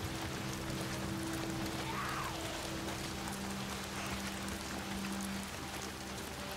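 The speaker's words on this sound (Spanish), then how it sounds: "La lluvia nos va a ayudar a pasar desapercibidos." Rain falls steadily in the video game Days Gone, a soft continuous patter with faint low engine-like hums underneath throughout.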